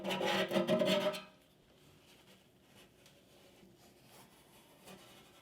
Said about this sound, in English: Using a putty knife, scrape out the old plumber's putty and clean the surface.